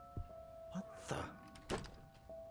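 Several dull door thunks and knocks in the horror video game Song of Horror, spaced apart over a faint steady tone, with a voice speaking quietly in the background.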